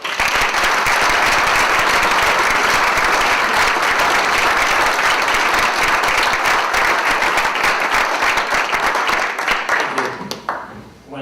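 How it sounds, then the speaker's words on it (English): Sustained, dense applause from an audience at a business enterprise awards evening, steady and loud for about ten seconds before tapering off at the end. "So let's give him applause."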